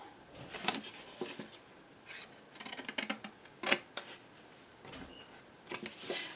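Scissors cut at an angle across the corner of a paper piece for a scrapbook project. Several short, crisp snips come close up in small bursts with quiet gaps between them, and no talking.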